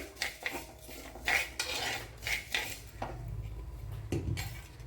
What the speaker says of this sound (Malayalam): ഒന്നര ടീസ്പൂൺ ഉലുവയും ഇട്ട് കൊടുത്തിട്ടുണ്ട് അപ്പോൾ ഇതിനെ ഇനി ഒന്ന് ഫ്രൈ ചെയ്തെടുക്കണം